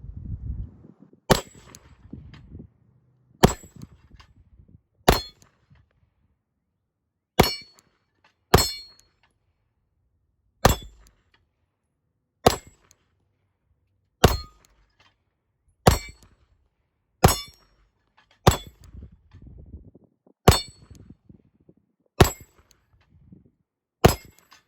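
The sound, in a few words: pistol shots fired at a tree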